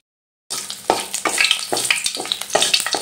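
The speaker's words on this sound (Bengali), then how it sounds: "এবার ফোড়নটা ভালো করে ভেজে নেব।" Whole spices for tempering, including cinnamon, cumin seeds, a dried chilli and a small cardamom, fry in hot oil with a loud, close sizzle that starts abruptly and crackles on with bursts of stirring.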